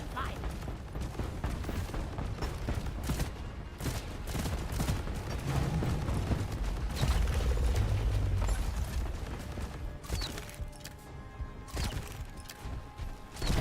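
Rapid automatic turret fire in the video game Deep Rock Galactic, a dense, continuous clatter of shots with mechanical rattling and crashing impacts sustained across the whole stretch, loud and close with no break.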